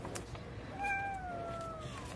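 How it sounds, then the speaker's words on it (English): A house cat lets out a drawn-out meow with a falling pitch, fairly close and clear over a faint room hum, with no talking. "Oh, that was my cat."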